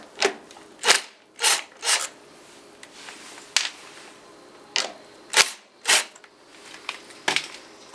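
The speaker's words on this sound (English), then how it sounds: "remove these 2 screws so that we can get the thermocouple block out of the kiln" Two screws are worked out of a kiln's thermocouple block, producing a series of sharp, close clicks and short scraping bursts with quiet pauses between them.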